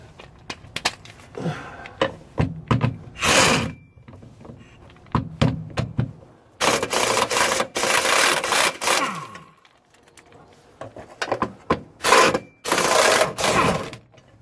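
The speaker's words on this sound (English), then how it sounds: "Go ahead and use the impact to get those off too, just for easiness sakes." An impact wrench takes 14mm chassis bolts off a Toyota MR2 AW11 during an engine mount replacement, firing in loud, close rattling bursts of hammering. Some bursts are brief and others run for a few seconds, with quiet pauses between them.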